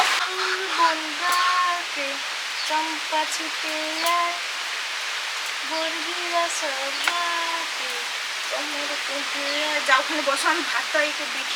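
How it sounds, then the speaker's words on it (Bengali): Steady rain falls outside, a constant broadband hiss heard under people talking throughout. "বৃষ্টিটা পড়ছে একটু কমুক নাহলে ভিজে যাব"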